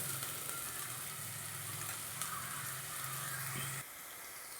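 Sliced onions with ginger and garlic sizzle in oil as the base for a mackerel fish curry, a steady close frying hiss that drops away near the end.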